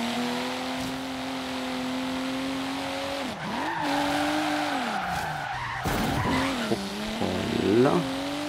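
Car from the Forza Horizon 3 racing game skidding under heavy handbrake, a loud engine drone with tire squeal sliding and warbling through a corner, followed by revving and further screeching near the end.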